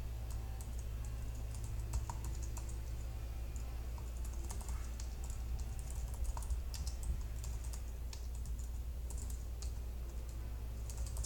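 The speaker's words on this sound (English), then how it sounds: "make it large enough to fit a key" Steady typing on a computer keyboard, with a continuous run of light, quick key clicks at close range over a constant low hum and no talking.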